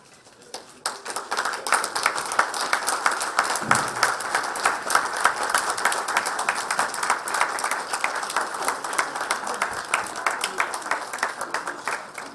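A crowd applauds at the opening ceremony of the Marriott Hotel in Georgetown after a flag is unveiled, starting with a few claps and swelling into a long, steady, lively round of many hands.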